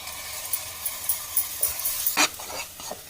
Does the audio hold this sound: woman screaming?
no